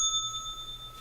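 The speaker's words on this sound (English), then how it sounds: "that bell is for you" A single bright bell ding rings out during a live futures trading broadcast, a clear sustained metallic tone that lingers and slowly fades, close and alone without talk.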